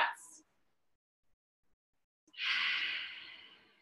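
Slow, deep breathing during a gentle hip-focused yoga stretch: a short breath, a pause of near silence, then a long, close, airy exhale.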